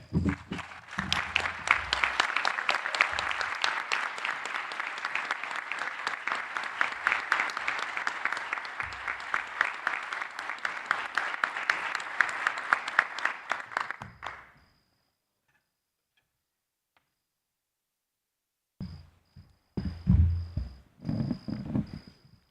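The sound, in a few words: round of applause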